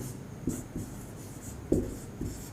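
A pen or marker writing a formula, quiet scratchy strokes with a few distinct taps and pauses, close and alone.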